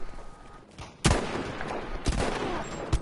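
Gunfire in the Firestorm shooter game: several sharp, loud reports land about a second apart over a dense background of battle noise, with fainter distant shots in between.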